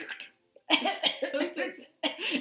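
Several harsh coughs in a row, close and fairly loud, with a short gap before a final cough burst.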